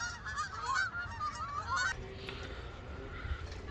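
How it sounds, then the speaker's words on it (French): Migrating geese flying south over Québec in autumn, honking overhead in a string of rhythmic calls that gives way to faint open-air background noise in the second half. "les oiseaux qui s'en vont dans le sud parce qu'ils savent qu'il fait frais"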